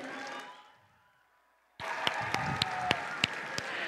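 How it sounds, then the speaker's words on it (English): Audience at a robotics competition applauding the judges: a sudden loud burst of dense clapping and cheering that keeps going after a fading tail of earlier sound. "Please give another huge round of applause to our judges."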